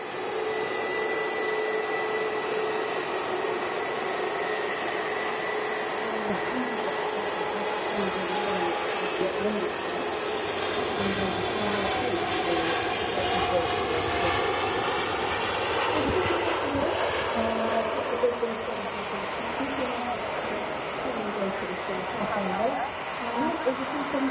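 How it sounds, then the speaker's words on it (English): A Gulf Air Boeing 787 Dreamliner on its takeoff roll at Manchester Airport, a steady broad jet roar holding throughout with rising whine, distant but sustained, with a voice talking over it. "Gulf Air Dreamliner now on the roll."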